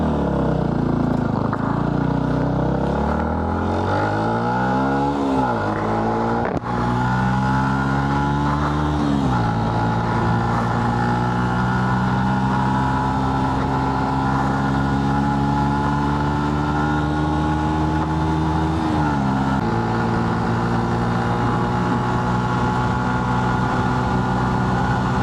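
A vehicle engine revs hard, its pitch sweeping up and down through several gear-like climbs, then the throttle is rolled off and the drone settles lower and steadier, loud and close throughout with no talk.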